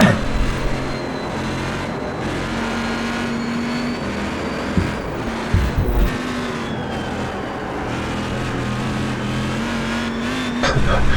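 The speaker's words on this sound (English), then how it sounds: "You could hear the four-wheel drift he got going through turn 5." A GTC race car drifts on all four wheels through turn 5 at Road Atlanta in a sim racing league, engine droning steadily with tyre scrub and faint passing cars beneath quiet commentary.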